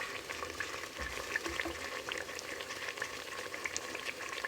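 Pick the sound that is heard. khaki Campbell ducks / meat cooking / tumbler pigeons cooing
meat cooking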